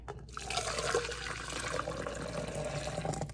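Liquid coffee is poured into a coffee strainer, a steady splashing, trickling stream heard close up and fairly constant for a few seconds with no voices.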